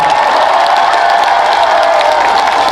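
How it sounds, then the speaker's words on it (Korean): A concert crowd at a Hoengseong Korean beef festival gives sustained applause with some cheering, a dense, steady wash of clapping heard alone. "박사진 정말 잘했다 생각하시면 큰 박수 한 번만 주시겠어요?"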